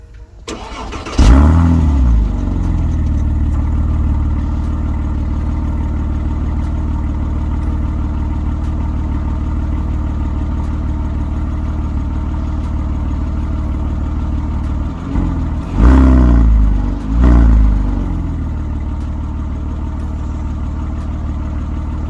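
An 07 Porsche's engine cranks and catches, settling into a steady idle, then gets two sharp revs near the end, close and loud with no talking.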